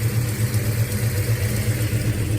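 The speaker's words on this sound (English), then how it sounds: "For you guys who want to hear what the exhaust sounds like" A 1970 Plymouth Fury III with a 440 big block and Flowmaster exhaust idles with a deep, loud, steadily pulsing burble heard up close, with no other sound.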